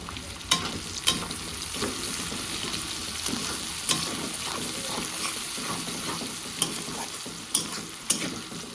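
Chopped capsicum, chili and garlic are stir-fried for pasta, giving a continuous close sizzle broken by regular sharp clicks of a spoon scraping and knocking against the pan.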